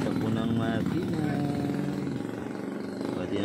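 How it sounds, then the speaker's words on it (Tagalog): A motorcycle engine idles and putters close by while someone talks over it. "Maganda ang takbo ng makina"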